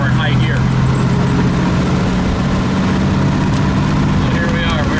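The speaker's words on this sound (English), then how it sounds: "This is the car pulling in third gear from a rolling start." A 1920 Packard Twin Six runabout pulling in third gear from a rolling start on the road, a loud steady engine drone with heavy wind rumble throughout.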